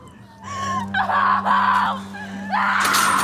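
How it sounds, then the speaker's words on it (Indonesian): Several people shriek and wail hysterically in bursts, voices crying out one after another over a low steady hum in a dramatic film scene. "mereka pun berteriak meminta tolong, akan tetapi tak ada seorang pun yang mampu menolongnya"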